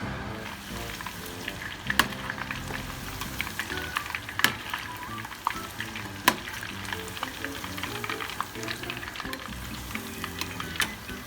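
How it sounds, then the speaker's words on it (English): Shrimp double frying in hot oil, a steady bubbling sizzle with scattered sharp pops and crackles throughout, close and moderately loud, with no talking. "let's double fry our shrimp"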